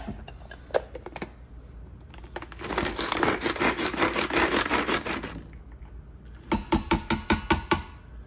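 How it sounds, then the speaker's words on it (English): Hand-pulled cord chopper shredding washed beans, bursts of rapid whirring, ratcheting blade spins, a short early set, a long sustained run, then quick repeated pulls near the end. "I'm going to use my pull chopper to shred these into nothing"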